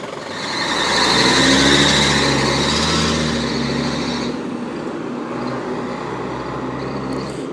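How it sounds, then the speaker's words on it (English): A Sydney bus engine idles and runs steadily at the Epping Station bus interchange, a loud continuous low rumble that swells over the first few seconds and then eases slightly, with no talk over it. "Well, that bus sounds healthy."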